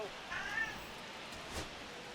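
Rally Cat meows in the baseball video game MLB The Show 25, a faint, brief cry over a soft, steady background hiss.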